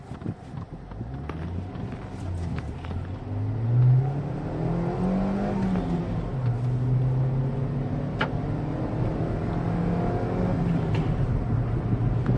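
A Hyundai i20 accelerates toward 100, its engine note climbing steadily in pitch over several seconds as it revs through the run, moderately loud with road noise and no talk.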